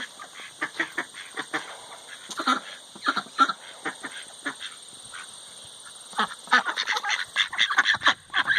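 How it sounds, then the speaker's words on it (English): Mallard drake and other ducks quacking close by in a backyard pool, a busy run of short raspy calls, some overlapping, over a steady high hum. "Pippin, a mallard drake right there, got his curled feather a few days ago."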